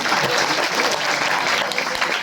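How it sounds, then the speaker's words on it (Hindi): Loud, dense audience applause in a lecture hall at a start-up founder's motivation session, continuous clapping throughout. "विरल सर के लिए जोरदार तालियां"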